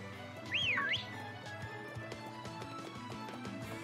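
A quick rising-and-falling whistle blown by the player character in Pokemon Sword, heard once near the start over steady game music with footstep-like clopping.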